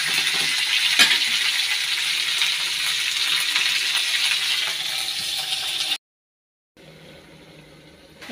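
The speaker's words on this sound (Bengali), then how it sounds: "এটা একটু ভাজা হয়ে যাক ভালো করে।" Food sizzles and spatters in a pan on a home kitchen stove, a steady bright hiss with small pops, before cutting abruptly to near silence and then a faint, quiet background.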